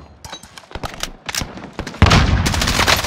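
Gunfire in a military video game: scattered sharp shots at first, then a dense, loud burst of continuous automatic fire and booms takes over in the final second.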